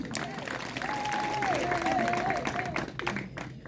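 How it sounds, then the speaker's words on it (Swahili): Audience applause at a gathering as a speaker invites clapping for a guest doctor, a steady wash of clapping from the crowd with a voice carrying over it. "tumpigie makofi"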